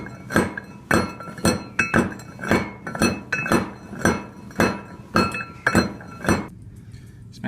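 Gold-bearing ore specimens are smashed with a hammer in about a dozen sharp, ringing blows at a steady pace, each with a hard metallic clink, close and loud, then a short stop.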